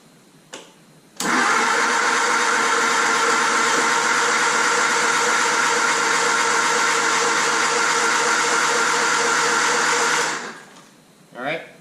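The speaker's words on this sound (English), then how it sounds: "All I'm really going to do is turn the motor over" A Triumph Spitfire engine being turned over for an oil pressure build, a loud steady cranking whir lasting about nine seconds before winding down, close up, with brief clicks before and after.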